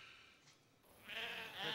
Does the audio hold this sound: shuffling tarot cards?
no